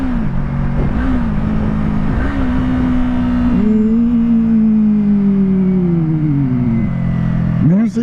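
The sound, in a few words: car engine downshifting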